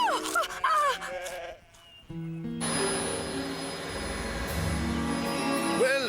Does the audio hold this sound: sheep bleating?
yes